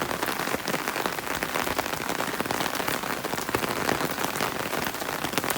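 Constant heavy rainfall drumming on a surface, a dense even patter close by with no voices.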